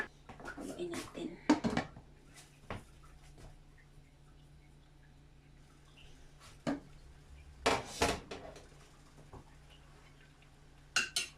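Chicken cooking in butter and garlic in a pot, stirred with a utensil that scrapes and clinks against the sides in irregular bursts, with quiet stretches between them.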